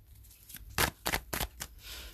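Oracle cards being shuffled and flipped, a few quick papery riffles and slaps in short bursts, close and fairly quiet with no talking.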